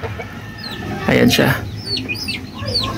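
A native chicken clucks in short bursts at close range, with other birds chirping in the background and someone speaking briefly over it.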